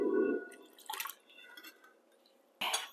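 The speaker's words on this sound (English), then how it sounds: "now goes in my milk, water, and my egg yolks" Milk, water and egg yolks splash and trickle into a mixing bowl that already holds flour, sugar, salt and yeast, with a brief pour and a second splash near the end.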